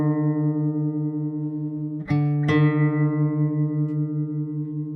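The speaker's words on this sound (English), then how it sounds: "if the note is out of tune but is getting close, we'll start to hear this beating noise between the notes" Two slightly out-of-tune guitar strings ring together, their sustained tones wavering in a slow, steady beating pulse; two quick plucks near the middle restart the notes, with no talk.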